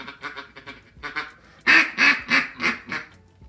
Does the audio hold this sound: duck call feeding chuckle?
yes